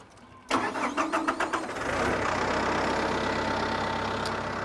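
A Massey Ferguson 2850E tractor engine cranks with a rapid stuttering turnover, then catches and settles into a steady loud rumble close by.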